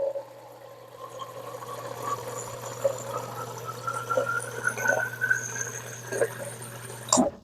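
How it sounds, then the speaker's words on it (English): A can is filled with water from a kitchen tap, a continuous rushing splash whose pitch slowly rises as the can fills, steady and close throughout, with no speech. "So I'll take it over here and fill up the whole thing with water."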